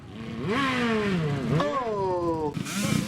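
A 50cc motorcycle at a hill climb event revs hard, its engine pitch rising and falling in two strained climbs before dropping off, loud and close with a rattling edge.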